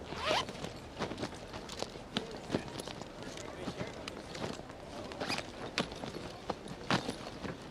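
Bags zipped shut during hurried luggage packing, with quick rasping zipper pulls repeating over several seconds, mixed with rustling handling sounds and people talking nearby.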